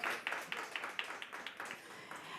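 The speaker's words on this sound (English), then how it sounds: "Please give yourselves a round of applause" A room audience at a women's conversation event applauds itself, producing faint, fairly distant clapping with sharp individual claps over a soft, continuous patter that carries on throughout.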